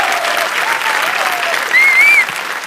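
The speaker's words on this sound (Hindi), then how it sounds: "प्लीज जोरदार तालियां हो जाएं।" A television studio audience applauds loudly for Kajol's entrance, with steady dense clapping filling the short stretch and a faint voice and whistle-like tone over it.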